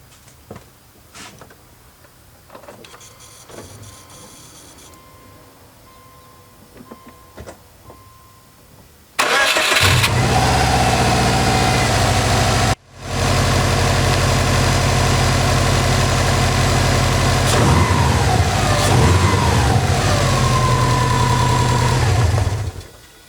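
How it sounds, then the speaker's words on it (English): A Subaru Legacy GT with a BNR 16G turbo fires up and settles into a loud, steady idle, a low rumble with a brief dip just after starting, following a quiet stretch of faint clicks and handling. "I'm gonna start the car up and make sure there's no funny noises"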